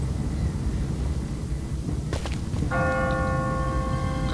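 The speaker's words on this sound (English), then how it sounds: "What kind of church bell goes off at 20 past the hour?" A church bell rings out in The Walking Dead video game over a steady windy ambient bed, one strike followed by a sustained ringing tone that lingers to the end.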